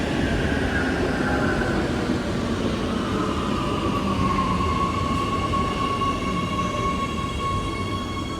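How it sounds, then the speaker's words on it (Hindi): A train rumbles past on the opposite track, heard from inside a moving train, with a steady loud clatter and a long rising metallic wheel squeal in the middle. "ये ऑपोजिट साइड की ट्रेन थी।"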